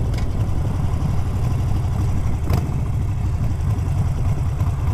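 A Harley-Davidson Iron 883 converted to 1200 rumbles steadily while riding on a road, a deep continuous engine drone with wind noise, close and constant throughout.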